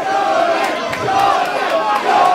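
Crowd at a UCC 4 fight between Jordan McKulsky and Shaun Lomas, round 3, roaring and cheering steadily with shouts rising and falling, loud and sustained throughout.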